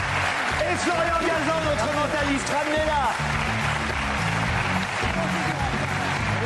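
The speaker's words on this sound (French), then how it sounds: "Allez, on va applaudir Elisabeth Tessier." A studio audience applauds on a French evening TV talk show, a steady clapping wash running beneath someone speaking loudly throughout.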